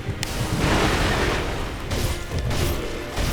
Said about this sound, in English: These firecrackers definitely spook his horse.